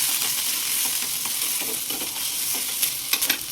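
Green chillies fry in a spoonful of oil, a close, continuous crackling sizzle with light scrapes and taps of stirring, a few louder clicks toward the end.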